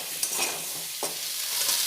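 Potato pieces coated in turmeric powder fry in a pan, a short burst of close sizzling with a couple of stirring scrapes and no voices.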